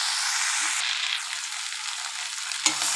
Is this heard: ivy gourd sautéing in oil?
yes